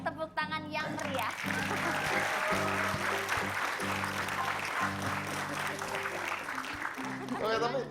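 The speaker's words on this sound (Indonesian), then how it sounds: "boleh tepuk tangan yang meriah" A television studio audience applauds on a talk show, steady clapping with music playing over it and voices talking near the start and end.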